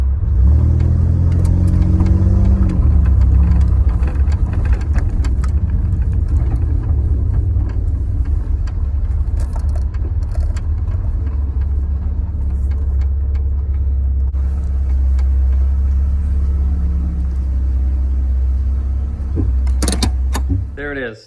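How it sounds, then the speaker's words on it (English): A Chevrolet Camaro, back on the road after more than ten years in storage, drives a short loop around a yard: a steady, loud engine rumble fills the whole run, with brief revving swells and gear shifts before it fades at the end. "But I'm gonna take it for a ride in the yard."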